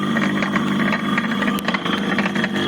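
230 V sliding gate motor running, a continuous mid-pitched mechanical hum and whir with light rattling vibration, close and steady throughout.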